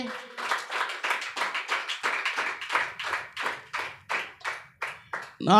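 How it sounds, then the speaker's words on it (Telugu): A church congregation claps in unison during a sermon, a rhythmic series of about fifteen strong, evenly spaced claps ending abruptly. "గట్టిగా దేవునికి ఒకసారి చప్పట్లు కొట్టండి"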